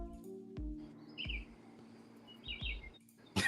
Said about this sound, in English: the birds chirping, I think, gave the answer